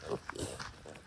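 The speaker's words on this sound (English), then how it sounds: "these pigs aren't supposed to be rooting pigs, but they're rooting" Pigs rooting in a garden give a short run of close snuffling grunts, several rough bursts in quick succession with a faint voice in the background.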